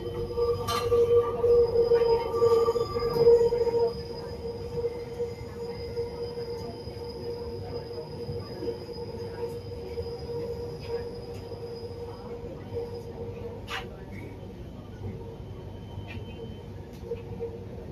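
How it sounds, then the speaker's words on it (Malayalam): Kochi metro train pulling out of Edappally station, a steady rolling rumble with a sustained electric whine, loudest in the first few seconds and then holding at an even level as it departs. "നമ്മൾ വന്ന മെട്രോ ആണ് പോകുന്നത്"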